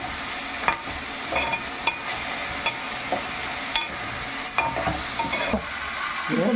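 Chicken sizzles loudly in a pan with ginger paste and raw mango, a constant hiss broken by repeated scraping stirs every second or so.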